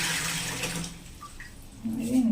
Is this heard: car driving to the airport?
no